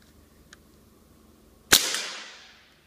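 A Crosman 2240 CO2 air pistol running on a 12-gram cartridge fires a single sharp, loud crack at close range, with a brief ringing decay; a faint tick comes just before in otherwise quiet surroundings.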